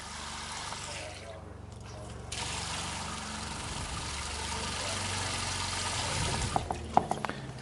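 Antifreeze runs out of the outside shower of an RV fifth wheel trailer, a steady splashing liquid flow with a low engine-like hum beneath and a few sharp knocks near the end.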